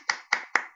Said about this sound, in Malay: tepukan semua